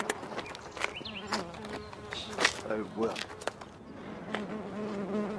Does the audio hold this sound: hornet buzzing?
yes